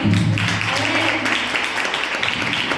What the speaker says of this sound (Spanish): Ahora tienen que dar un aplauso.